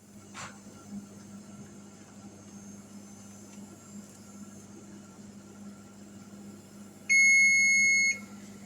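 A kitchen timer goes off with a loud, steady electronic beep lasting about a second near the end, after quiet kitchen background with a soft click near the start, while chicken noodle soup simmers.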